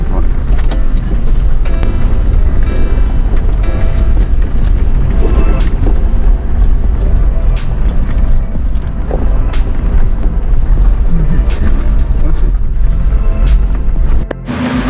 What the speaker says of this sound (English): we just stopped at the little sand pit here, do a couple little laps around